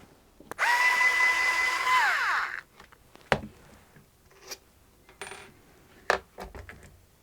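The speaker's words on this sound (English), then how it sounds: "Now I will have to remove these 2 screws and then these ones to remove these suspension links." An electric screwdriver backs screws out of Traxxas TRX-4 suspension links: a loud whirring burst of about two seconds that winds down in pitch, then scattered small clicks and taps as the parts are handled.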